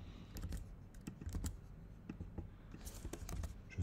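Quick, steady keystrokes on a computer keyboard while Java unit test code is typed, close irregular clicks at a low level with no talk.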